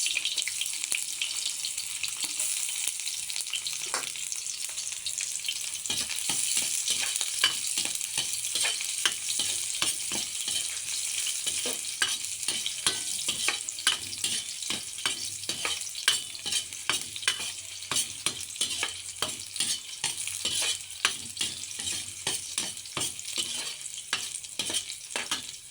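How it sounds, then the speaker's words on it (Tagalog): Onion and garlic sauté in a pan for a Filipino mung bean dish, a constant bright sizzle with frequent rhythmic stirring clicks throughout and no talking. "ilalagay na po natin yung ginisang, ayan, ginisang sibuyas at bawang."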